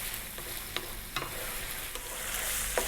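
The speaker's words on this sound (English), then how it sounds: "5 minutes on this medium heat, stirring often." Chicken stirred often in a pan over medium heat, a steady soft sizzle with a few light scraping strokes of the spoon, fairly quiet and without talk.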